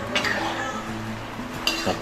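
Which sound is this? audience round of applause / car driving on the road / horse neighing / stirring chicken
stirring chicken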